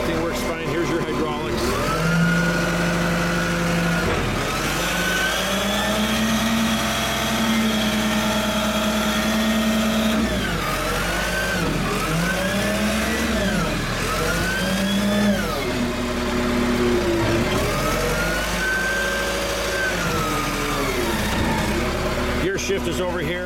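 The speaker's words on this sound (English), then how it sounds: "start it up. Starts instantly." A Skytrak 10054 telehandler's engine runs with a steady diesel drone, repeatedly revving up and dropping back in rising and falling swells.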